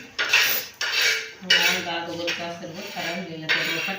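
Vegetables tipped into a metal pan holding chopped onion, garlic and coconut, giving loud clattering scrapes of a spoon against the pan in several bursts, with faint background voices.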